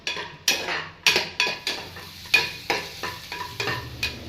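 Onion, tomato and peanuts frying in a pan for dosa chutney, with a soft sizzle under regular spatula scrapes against the pan, about a dozen strokes in a steady rhythm, close and alone.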